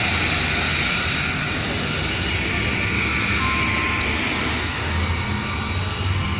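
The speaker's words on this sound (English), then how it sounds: "Here's the train. The old coal train." An old coal train passes on a rail line, a steady, broad, continuous rumbling roar that stays loud throughout, heard outdoors from beside the track.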